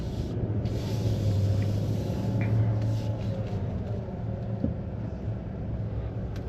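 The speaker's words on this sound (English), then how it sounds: "Really love the sound of the V8." A 2023 Nissan Titan Platinum Reserve pickup's V8 engine drones from inside the cab while driving, a steady low rumble at moderate volume with no talk over it.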